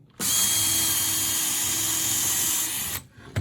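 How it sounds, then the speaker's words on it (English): A power drill bores a single hole through an Adirondack chair back slat from a DIY kit, a close, loud steady whine starting abruptly, running about three seconds, then stopping with a brief tail. "I'm going to go ahead and drill a hole, just one"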